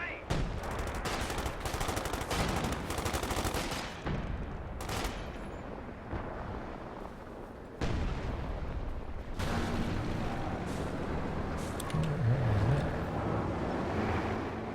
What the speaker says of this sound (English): Was a Zis barrage.